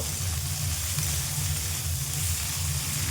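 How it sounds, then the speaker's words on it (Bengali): Vegetables for pasta fry in a pan with a steady, even sizzle and a low hum underneath, close by and continuous, with no talking. "সবজিগুলো ভালোভাবে ভেজে নেব।"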